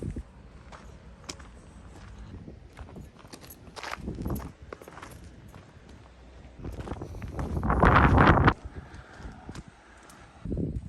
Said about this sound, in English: Windy day in Tenerife. I really need to get a microphone sorted.